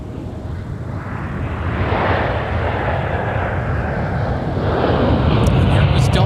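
Delta Airbus A330 jet departing Minneapolis–St. Paul (MSP) on a non-stop to Paris, a broad continuous roar that swells after the first couple of seconds and holds steady and loud, with faint voices underneath.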